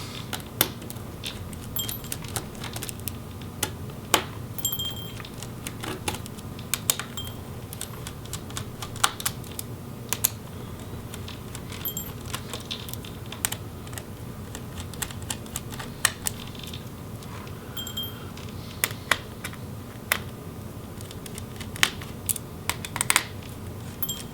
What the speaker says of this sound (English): And then we can remove the motherboard screws.